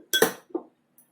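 A spoon clinks twice against a glass holding half a glass of water while chalk powder is stirred in, two sharp close taps followed by quiet.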